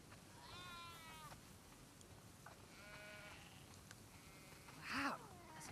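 Sheep bleat inside a barn in the video game The Last of Us Part II. Several wavering bleats from a flock come one after another at moderate distance over a steady ambient hiss, with a louder call near the end.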